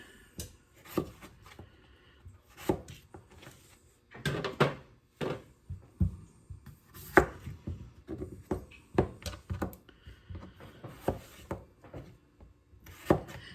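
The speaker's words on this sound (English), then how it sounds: "We're cutting these into wedges, and I'm putting them on my cookie sheet over here to the side as I go." A knife slicing through potatoes to cut them into wedges, giving a run of short chopping and scraping knocks against a cutting board, with a few louder thuds, all close by and with no talking.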